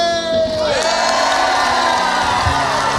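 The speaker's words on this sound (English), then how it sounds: "What a crowd." A large live audience at a Beauty and the Beast stage show cheers, whoops and shouts continuously, loud and sustained throughout.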